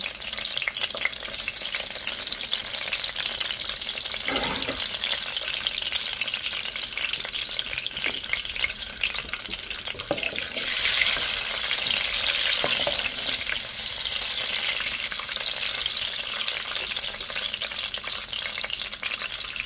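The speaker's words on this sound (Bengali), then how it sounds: "ডিম কটা একটু ভেজে নেব আর হলুদ লবণ দিয়ে মাখিয়েছি" Eggs coated in turmeric and salt fry in a pan, an unbroken hissing sizzle lasting throughout with occasional scrape and knock of a utensil, close by and without speech.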